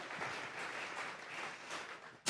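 A church congregation applauds together as an offering to God, a steady wash of many hands clapping at moderate distance, continuous for a couple of seconds.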